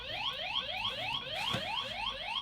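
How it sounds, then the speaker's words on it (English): Anti-theft alarm on a Talaria X3 electric bike wails in a rapid, repeating upward-sweeping tone, loud and close, cycling steadily with no talk over it. "Oh, that's a great alarm system."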